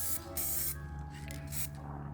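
Spray paint hissing onto Halloween craft bones partly wrapped in cling film, delivered in two or three short close bursts over a low steady background hum.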